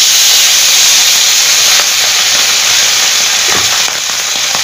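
Vegetables and fish frying in hot oil on a village kitchen stove, a steady loud hiss and sizzle running continuously throughout with no talk.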